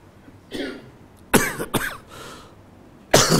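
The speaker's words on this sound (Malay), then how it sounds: "Hari ni selang-seli lah dengan batuk." Several loud, harsh coughs and throat-clearing bursts come close to the microphone in short separated fits, one early, a pair in the middle and another near the end, with no talk around them.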